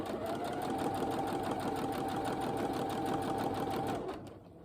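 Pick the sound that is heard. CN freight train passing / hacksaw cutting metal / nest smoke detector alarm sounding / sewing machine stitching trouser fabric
sewing machine stitching trouser fabric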